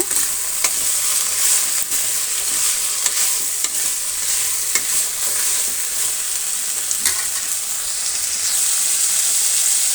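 Vegetables fry and are stirred in a pan for avalakki bath, a steady loud sizzle with repeated scraping strokes of the spoon throughout, no voices.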